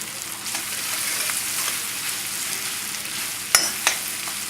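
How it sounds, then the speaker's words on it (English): Shallots saute in butter in a pan, giving a steady, close hissing sizzle throughout, with a couple of brief clinks from stirring near the end. "So this is sauteing."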